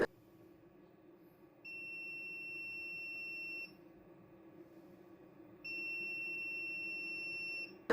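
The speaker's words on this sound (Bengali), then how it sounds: "অ্যালার্ম সাউন্ডটা বন্ধ হয়ে যাবে।" An inverter's low-battery alarm emits a steady high-pitched beep that sounds for about two seconds, stops, then starts again, over a low background hum.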